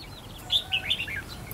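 A red-whiskered bulbul, a decoy bird raised from a chick, gives a quick run of bright, high chirps over a soft, low outdoor background.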